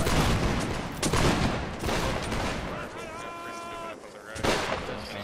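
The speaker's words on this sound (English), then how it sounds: "Fire volley quick." Musket volleys from line infantry in a Napoleonic Wars video game, a ragged fusillade of repeated cracking shots spread across the clip, loud and close, with a brief tonal ringing in the middle and voices shouting among the gunfire.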